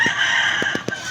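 A chicken clucks close by, a few short throaty calls in quick succession over a steady background hum.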